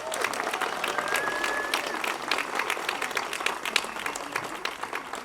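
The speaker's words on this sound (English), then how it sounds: "A big round of applause for the people of Nepal." An audience at the World Ranger Congress in Chitwan, Nepal breaks into sustained applause, dense clapping from a large crowd filling the room at a steady level for several seconds.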